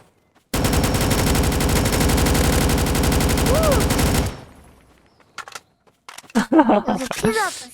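Rapid automatic gunfire from an unlimited-ammo weapon in a Roblox zombie game, a dense, loud continuous burst lasting about four seconds, followed by quiet and then a few voices talking excitedly.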